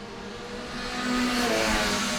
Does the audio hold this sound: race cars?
yes